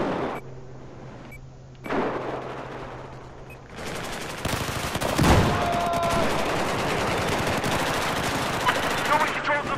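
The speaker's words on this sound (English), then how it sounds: "What is shooting at me?" Heavy automatic gunfire and battlefield noise in Battlefield 4 Rush mode, starting sparse and then swelling into continuous loud shooting with a booming impact midway; a voice speaks at times.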